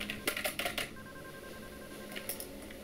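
A payphone in the video game Deadly Premonition rings in quick electronic bursts, a cluster of short trills followed by a pause and then another faint ring, with no talk.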